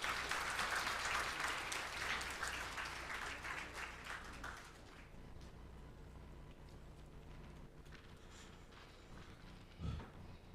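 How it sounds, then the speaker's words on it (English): An audience at the release of the 2023 census preliminary report bursts into loud, dense clapping that tapers off after about four seconds, leaving quiet room tone and one soft thump near the end. "round of applause, please"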